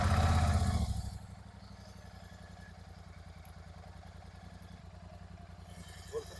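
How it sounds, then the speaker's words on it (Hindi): A Royal Enfield Interceptor 650 motorcycle fires up with a loud burst, then settles into a steady, close, rhythmic idle that chugs evenly for several seconds. "बाइक को ऑन करना पड़ेगा।"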